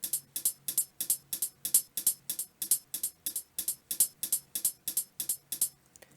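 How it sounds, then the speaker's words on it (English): Programmed hi-hat pattern in a beat, rapid bright ticks in an uneven, swung rhythm with randomized velocity so each hit varies in loudness, close and dry with no talking. "And here's how the hi-hats sound."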